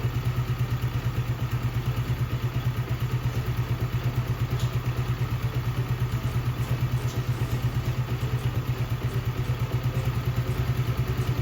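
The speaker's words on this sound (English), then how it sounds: "Sounds like the idle might be just a tad low." A Honda CT70 clone minibike, the 2024 Icebear Champion, idles steadily with the choke on, a low, even, rapid putter that stays constant and close throughout, with no talk.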